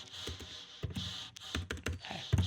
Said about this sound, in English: here we type Berkeley's